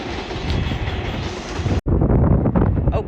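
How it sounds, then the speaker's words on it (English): A New York subway train rushes past on the opposite track, a loud, continuous roar of rumbling wheels and rushing air with a brief dropout partway through. "Here comes the subway on the other way."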